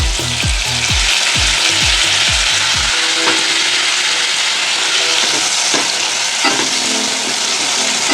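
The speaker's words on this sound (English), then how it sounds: "Give it a stir." Sponge gourd curry cooking with poppy seed paste in a pan, a loud steady frying sizzle throughout, with rhythmic stirring scrapes of the spoon in the first few seconds and occasional clinks after.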